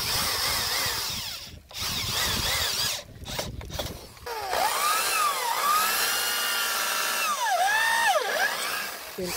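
A power drill drives a screw into wood, whining loudly and close, with pitch rising and falling as the motor loads and speeds up across several bursts and brief pauses.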